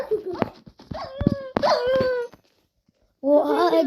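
A dog in Minecraft whimpers and yips in a series of high, wavering whines, then falls briefly silent before whining again.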